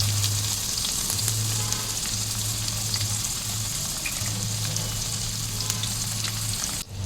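Potatoes and tomatoes with ginger and green chilli sizzle loudly and continuously in a hot pan, a dense, close frying hiss with a low hum underneath and a brief drop just before the end.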